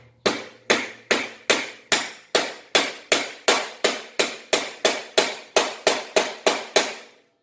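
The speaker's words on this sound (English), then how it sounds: "I've got this dead blow hammer." A dead blow hammer drives a bearing onto its race while a 10-inch Craftsman machine is reconditioned. About eighteen sharp, evenly spaced thuds land close and loud in a steady rhythm, with no talking.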